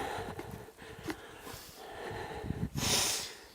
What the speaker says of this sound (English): blowing his nose